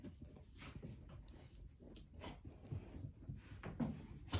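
A freshly bathed wet dog close by, with soft panting, whimpering and rustling as it shakes and rubs itself dry, fairly faint and alone.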